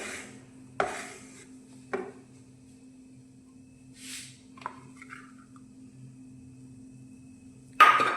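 A utensil stirs wheat flour roasting with ghee in a pan, giving a few sparse, isolated clinks and scrapes separated by quiet, with a louder clank at the end.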